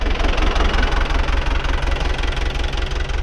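A farm tractor engine runs steadily at close range, a loud, even low-pitched throb with a rapid knocking pulse and no pauses or voices.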